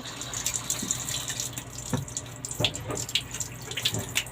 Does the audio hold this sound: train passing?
no